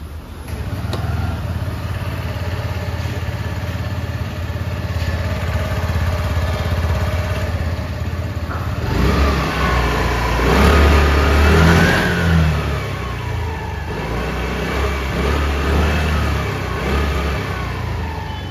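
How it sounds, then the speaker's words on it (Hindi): A 2024 TVS Jupiter ZX 110 scooter engine revs up from a steady idle, its exhaust rising and falling through several throttle blips, loud and close, with no talking. "अब चलिए सुनते हैं इसका एग्जॉस्ट साउंड कि सुनने में कैसा है"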